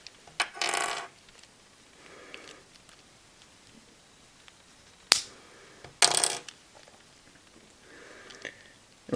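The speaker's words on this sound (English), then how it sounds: "take these two pieces here and unclip them" Plastic pieces of a Kamen Rider OOO rider armor figure unclip with a few sharp clicks and snaps, spaced irregularly with quiet handling between them, close to the microphone.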